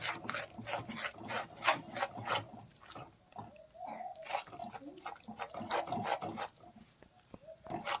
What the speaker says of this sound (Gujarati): આપણે સતત હલાવતા રહી અને ઘી અને ગોળને